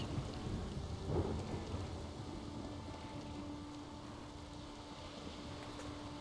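Steady rain pours in the video game The Witcher, with a low rumble of thunder rolling underneath, a dense, even wash of rainfall that stays fairly quiet and continuous throughout with no talking.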